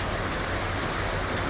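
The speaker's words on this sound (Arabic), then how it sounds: "بتشوف الجو بيمطر" Steady, dense rain falls in the Al Baha mountains of Saudi Arabia, a close, even hiss of drops with no pauses and no voices.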